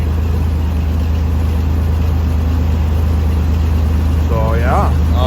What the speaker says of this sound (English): It's idling down, running like a sewing machine.